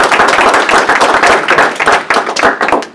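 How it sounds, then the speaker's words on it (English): Vigorous applause from an audience at a university history career night, close and loud, with dense overlapping claps that thin slightly toward the end. "with a vigorous round of applause."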